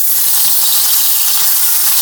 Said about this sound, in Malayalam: വീണ്ടും ഈ പാത്രം അടുപ്പത്ത് വെച്ച് ഇതിലാണ് നമ്മൾ ഈ ഉണക്കമാന്തല് വറക്കണത്